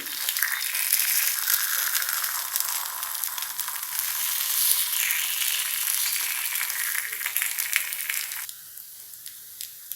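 Paniyaram batter hisses and crackles in a hot stone paniyaram pan, a loud, steady close-up sizzle with faint scraping and clinks near the end.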